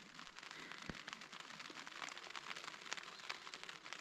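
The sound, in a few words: rain falling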